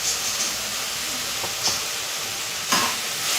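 Ivy gourd vegetables sautéing in a hot pan at home, a continuous close sizzle and hiss with a few brief scraping stirs of a spoon against the pan.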